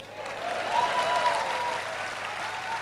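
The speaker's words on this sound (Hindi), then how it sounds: "ताली किसके लिए बजेगी?" Audience applause at a diamond celebration event, a steady wash of clapping from a crowd heard at moderate distance for a few seconds, with no speech over it.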